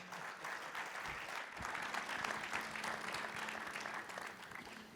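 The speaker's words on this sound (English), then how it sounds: "let's give this phenomenal panel another strong round of applause so that Dennis can get some good stuff out o" Steady audience applause for a panel at a Gulf Coast chemical industry forum, a sustained round of clapping from a seated crowd that holds at an even level for the full stretch with no talk over it.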